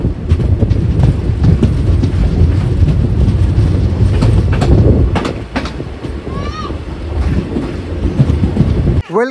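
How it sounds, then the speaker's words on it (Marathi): A passenger train pulls into Kinwat station in the morning, its loud rolling rumble and rhythmic clickety-clack of wheels over rail joints continuing throughout, with a few high squeals of wheels or brakes late on. "बरोबर सकाळी 7:45 दरम्यान ऑन टाइम ट्रेन पोहोचली किनवट स्टेशनला"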